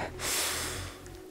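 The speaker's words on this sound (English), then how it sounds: "Big inhale. And exhale." One deep breath out during a walking cardio workout, a soft airy exhale swelling and fading over about a second, close and fairly quiet.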